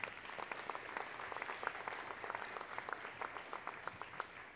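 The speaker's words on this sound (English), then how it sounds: "Let's give them a round of applause again." An audience at a historic preservation awards ceremony in Manchester, New Hampshire claps steadily for several seconds, a dense patter of applause at moderate distance, no voices over it.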